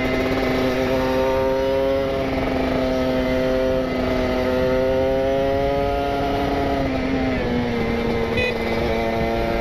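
Kawasaki Ninja RR two-stroke fitted with a PWK28 carburetor on a rich setting and an R9 Neo Muggelo carbon exhaust, revving steadily with a loud, rasping buzz that rises and falls across the ride, no talk.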